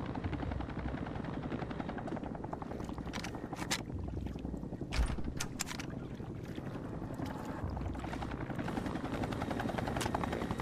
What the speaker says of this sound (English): there is a chopper we can hurt